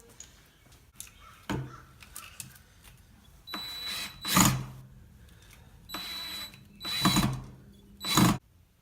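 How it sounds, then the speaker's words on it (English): A 4-inch exterior deck screw driven into a picnic table leg with a power driver, several loud whirring bursts of a few seconds each, separated by pauses, close by. "now we're going to attach the leg to the nailer via a screw, and it's a 4-inch exterior deck screw"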